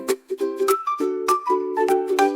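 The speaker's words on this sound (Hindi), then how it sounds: "अब स्कूल की घंटी बजती है" A school bell: a bright melodic chime rings out in a quick sequence of tuned tones, like an electronic bell or jingle, clear and close with no talking.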